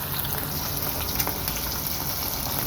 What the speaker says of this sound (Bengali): এখন আমি এটাকে লাল লাল করে মিডিয়াম আঁচে ভেজে নিব